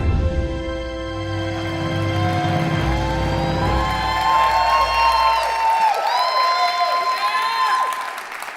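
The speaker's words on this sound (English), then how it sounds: "you got a raving round of applause for that" Applause and cheering fill a city hall audience at Flint's 2024 State of the City address, honoring the fire chief, steady and loud over a low hum, with bright tonal whoops and voices rising through the second half.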